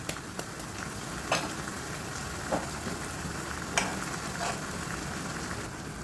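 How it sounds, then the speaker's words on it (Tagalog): Chicken Bicol Express simmers in coconut milk in a pan, giving a steady, close sizzling and bubbling hiss with a few sharp pops and clicks scattered through. "Hayaan muna natin ito na lumabas yung mantika ng gata. Ayan, pakulo-kuluin muna natin ng ilang minuto."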